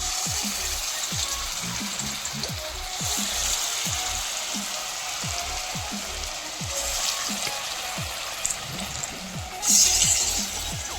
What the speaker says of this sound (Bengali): গরম তেলে আস্তে আস্তে বড়গুলো দিয়ে দিচ্ছি